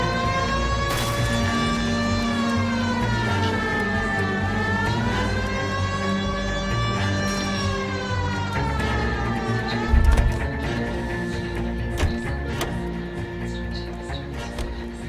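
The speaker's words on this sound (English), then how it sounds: "Siren!" A police siren in the video game L.A. Noire wails continuously, rising and falling in long sweeping cycles and staying loud and prominent over faint background rumble.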